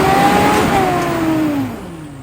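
A 4WD vehicle's engine revs loudly and close on a hard, wet track in the NSW Mid North Coast, the pitch sliding down as it strains, then easing off.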